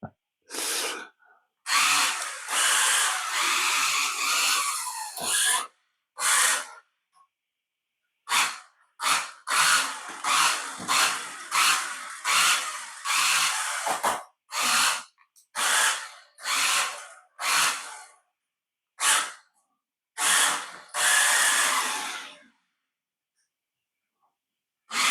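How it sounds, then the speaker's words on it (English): Small New Bright Ferrari Fiorano toy RC car running on a 2S LiPo, its wheels spinning on a smooth floor in repeated short bursts of high whirring, separated by brief silences. "And that is wheel spinning terribly."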